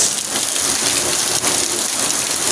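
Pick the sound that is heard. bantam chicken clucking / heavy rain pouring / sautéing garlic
heavy rain pouring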